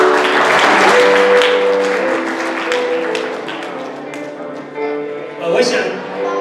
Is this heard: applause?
yes